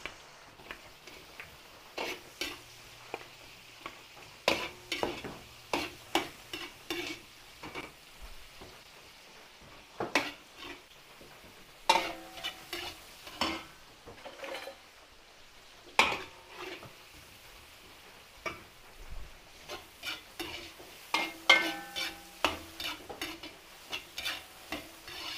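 Onion and garlic sautéing in a pan, with a soft background sizzle broken by repeated clinks and scrapes of a utensil stirring against the pan, no voices.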